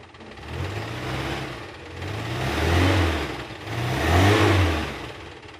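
The 1.0-litre engine of a 1994 Suzuki Carry pickup, a used vehicle, is revved in three rising blips from idle, each swelling and falling back, close by with no talking.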